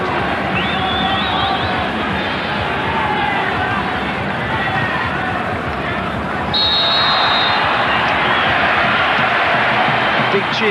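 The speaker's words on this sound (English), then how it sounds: "Big cheer goes around the ground as the referee gets one right." Stadium crowd at a football World Cup qualifier between Australia and Canada, a broad continuous roar of cheering from the stands with an English commentator talking over it throughout.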